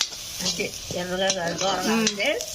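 Onions fry for a chicken curry in a pot over a wood-fired stove, with a hissing sizzle broken by scraping stirs and clinks of a spoon against the pan.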